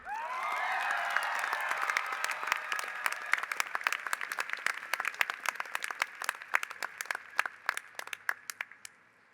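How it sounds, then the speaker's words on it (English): A high school graduation audience breaks into loud, sustained applause for the graduation speaker. The sound is dense at first, then thins into scattered individual claps toward the end. "Please give a warm round of applause for the man we wisely chose as our graduation speaker, Mr. Steve Darnell."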